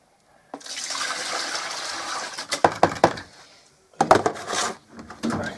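Waste water from a Whirlpool AWM9000 washing machine, fluffy with lint, is emptied into a bucket in a loud, steady splashing pour that then breaks into several sloshing bursts and clunks.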